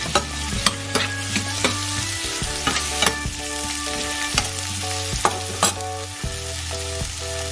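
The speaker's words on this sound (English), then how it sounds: "we are ready to saute our onions first" Onions sautéing in canola oil in a pan, a steady close sizzle broken by repeated sharp scrapes and clicks of a utensil stirring, with a low hum underneath.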